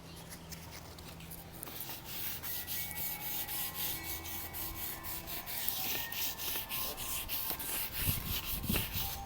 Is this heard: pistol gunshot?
no